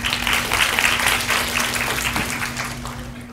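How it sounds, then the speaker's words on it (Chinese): An audience at a youth working-holiday information session applauds, a dense, steady wash of clapping from many hands that gradually thins out, with a faint electrical hum underneath. "那请大家热烈掌声欢迎"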